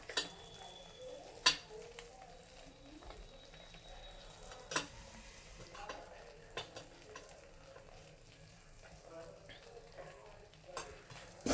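Bhogi mixed vegetables with turmeric, chilli, coriander powder and salt sauté in a pan, giving a soft ongoing sizzle broken by sharp clinks of a spoon stirring against the vessel, with someone talking quietly over it.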